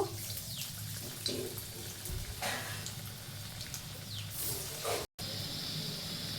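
Plantain and prawn koftas frying in hot oil, a soft steady bubbling hiss with occasional louder sputters and a brief dropout near the end, quiet and without talk.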